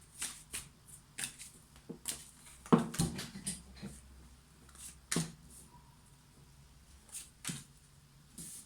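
Irregular bursts of tarot cards being shuffled and riffled, sharp flicking rustles spaced apart, close by with no talking.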